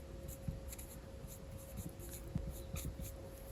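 Pen or marker scratching steadily across a board or paper while a trigonometry equation is written out, with small irregular strokes and taps close by against a faint steady hum.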